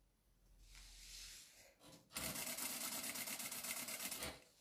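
Sewing machine running, a soft whirring start then a loud, steady rapid needle rhythm for a couple of seconds before stopping, heard alone and close.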